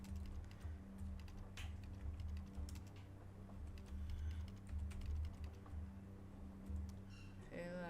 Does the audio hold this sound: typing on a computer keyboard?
yes